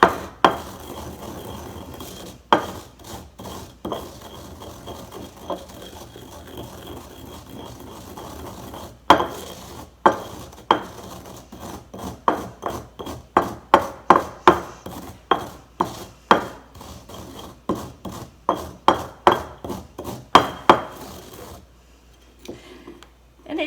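Whole cumin seeds, about a heaping tablespoon, being ground by hand in a kitchen, giving a steady run of gritty rasping and rubbing strokes with sharper scraping bursts that grow more frequent, close and fairly quiet, before the sound drops away near the end.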